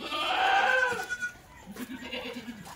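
Goats bleat inside a goat shed, one loud drawn-out cry up close at the start, then a quicker, fainter run of short bleats toward the end.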